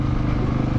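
Motorcycle engine running steadily at close range with a low, continuous drone, no talk over it, heard just before a trip to a motocross event in Payerne.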